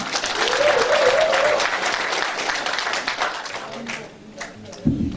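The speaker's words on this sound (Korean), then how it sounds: "자 다음 축사 우리 전해철 경기도당 위원장님 다시 한번 박수로 모시겠습니다." Supporters at a Pocheon mayoral candidate's campaign office opening clap to welcome Gyeonggi provincial party chair Jeon Hae-cheol, a full burst of applause that fades toward the end, with an amplified voice speaking over the start.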